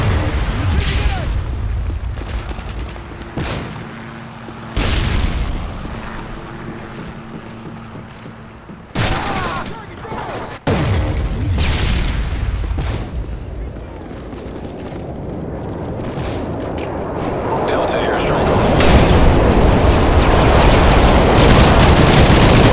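Predator missile strikes in Call of Duty: Modern Warfare 3 multiplayer, heavy booming blasts with rushing, wind-like roars that swell toward the end. Game voice callouts sound in between.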